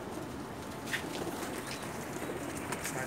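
Zeera Teddy pigeons in a Pakistani loft give soft, low cooing calls, faint and intermittent against a steady background hiss, with no talking.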